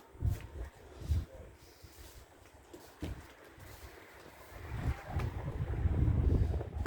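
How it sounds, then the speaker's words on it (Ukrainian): Light wind gusts buffet the microphone on a large hotel balcony, rising from soft intermittent puffs to a steadier, louder rush toward the end, with no talking. "Так і піднявся трохи вітерок."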